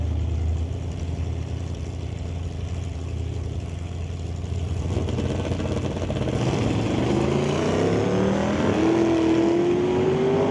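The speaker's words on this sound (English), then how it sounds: "the big old Pontiac trying to reel in the Cal Tire Port Alberni Chevelle" A 1963 Pontiac drag racing against a Chevelle at an NHRA Northwest National Open Series event: a steady, loud engine roar fills the whole span, with a rising whine climbing toward the end as the cars run down the strip.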